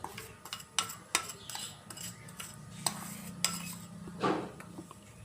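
Sugar is stirred into a roasted suji and milk powder mixture in a pan with a metal spoon, giving irregular scraping clinks and knocks against the pan, quiet and close, with no talking.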